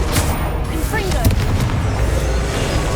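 A Confringo blasting spell from the game Hogwarts Legacy, booming fiery impacts with a whooshing streak and crackle, loud and close amid layered game effects.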